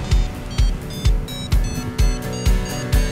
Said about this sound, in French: J'entends ce doubi bip qui fait plaisir.